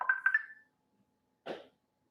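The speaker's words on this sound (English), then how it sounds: "Somebody was calling me." A phone rings with an incoming call, two short warbling electronic ring bursts close by, then a pause before a brief noisy rustle.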